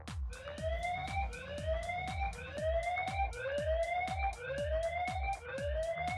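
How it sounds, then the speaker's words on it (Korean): A loud electronic alarm siren from a security camera repeats rapid rising whoops in a steady pulsing rhythm, each paired with a sharp click, continuing without pause. "이렇게 위급한 상황이 발생되면 카메라에서 사이렌을 울릴 수도 있습니다"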